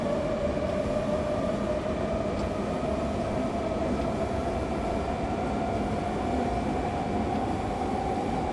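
A BR420 electric multiple unit in Train Simulator runs along the Cologne–Düsseldorf line, its motor giving a constant whine with a low rumble of wheels and a few soft clicks, steady and close with nothing else heard.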